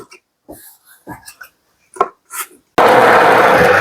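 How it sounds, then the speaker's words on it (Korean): A blender grinding apples and onions into a marinade starts abruptly near the end as a loud, steady roar, after scattered faint knocks and handling noises from the kitchen. "양념에 사과 2개와 양파 2개를 갈아서 넣을 거예요"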